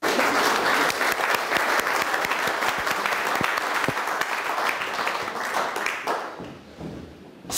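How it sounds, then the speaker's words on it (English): A live audience at a talk bursts into vigorous applause, loud and dense with sharp individual claps, continuing for several seconds before fading into scattered claps near the end. "Applause."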